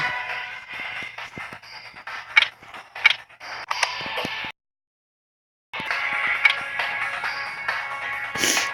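Mechanical clicks and rattles as a gun is swapped in the online shooter game Special Force, close and busy, broken by about a second of silence before the clatter resumes and ends in a sharp click.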